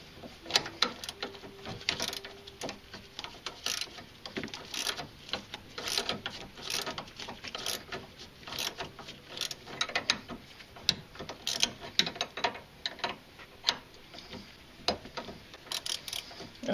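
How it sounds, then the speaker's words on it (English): A ratchet wrench clicks in quick bursts while turning a bolt on a sway bar link of a 2006 Ford Focus, close and sharp, with irregular pauses between strokes and no talking. "I'm doing it with a ratchet because I can't get the dang air tool in there"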